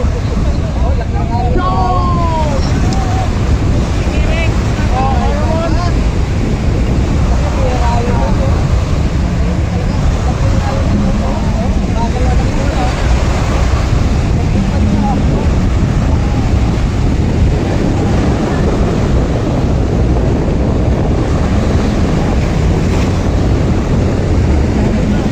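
Large waves and strong wind on open water during a bancarera boat race, a constant loud roar of wind buffeting the microphone over churning surf, with a voice talking through it and no break in the rumble.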